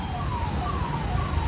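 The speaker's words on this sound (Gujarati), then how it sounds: "એમ્બ્યુલન્સ હલવાણી છે." Ambulance siren wailing along a flooded street near a college in Surat during heavy rain, a steady rising and falling tone heard at moderate distance over a constant rumble of traffic and rain.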